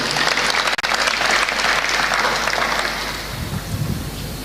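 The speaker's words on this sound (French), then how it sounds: "Vos applaudissements." Sustained audience applause at a formal gathering with a president in attendance, a dense hiss-like wash of many hands clapping that holds steady and then eases slightly toward the close.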